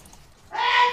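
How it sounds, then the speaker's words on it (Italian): A woman sneezes suddenly from nearby, one sharp loud burst with a bright hissing tail that cuts through an otherwise quiet room. "Questa era mia mamma che starnutiva."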